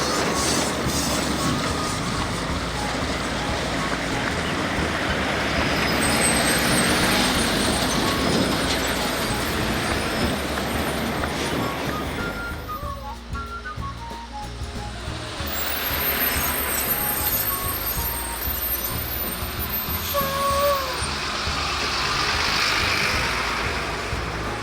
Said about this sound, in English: It's too narrow to accommodate both the wide load and trucks headed in the opposite direction.